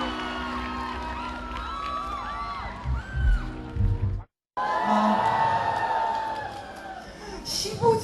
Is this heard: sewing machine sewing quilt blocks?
no